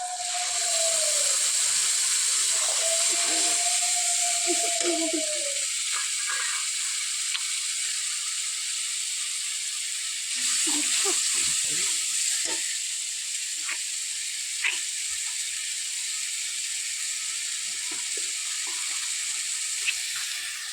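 A paste of ginger, garlic, tomato and dried chilli sizzles in a hot pan, a steady bright hiss that lasts throughout, with a few faint tones and soft clatters early on.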